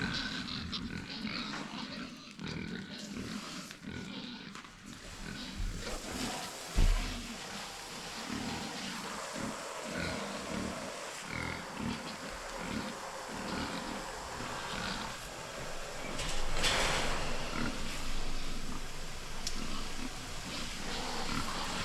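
Farm pigs let out of their pens in the morning, grunting and squealing in a continuous busy chorus alongside shuffling and barn clatter, with a louder burst of activity toward the end.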